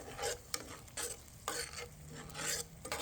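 A spoon scrapes and stirs crushed San Marzano tomatoes in a pan over a medium flame, with wet sloshing strokes and a low simmering sizzle underneath, no voices.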